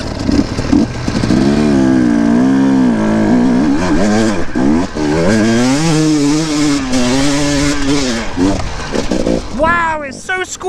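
A 250cc enduro motorcycle in second gear revs hard climbing a steep hill, its engine note rising and falling in long loud sweeps as the throttle is worked, with a brief voice near the end.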